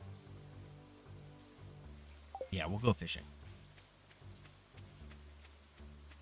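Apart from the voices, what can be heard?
rain in video game Stardew Valley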